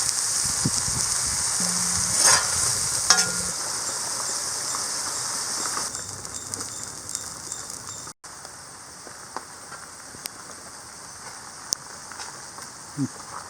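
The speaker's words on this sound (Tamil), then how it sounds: "இது வந்து நல்லாவே மிக்ஸ் பண்ணி எடுத்துடணும்." Mutton sizzles and fries in a pan on a village kitchen stove as it is stirred, a steady hiss with scattered clinks and scrapes that thins out partway, with a voice talking over it.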